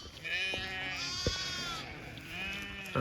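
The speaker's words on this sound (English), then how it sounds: "Look at those sheep." Sheep bleating across a spring lambing pasture, overlapping wavering calls from several animals at mid distance, steady and continuous without speech.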